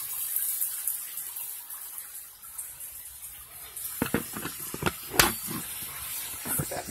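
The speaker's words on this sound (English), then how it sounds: "Now we're turning up the cold water some more." A bathroom sink faucet runs steadily as a soft broadband hiss, with louder splashing and gushing bursts in the later seconds as the cold water is turned up.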